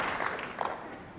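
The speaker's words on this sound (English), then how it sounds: "Round of applause." Brief applause from a conference audience at opening remarks, a dense patter of many hands heard at moderate distance, with a voice faintly present underneath.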